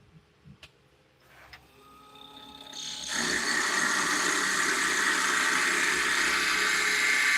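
Carbide cutter heads bore through a wooden ring turned on a lathe, starting with faint clicks and a rising motor hum, then breaking into a loud, steady, rough cutting roar close by.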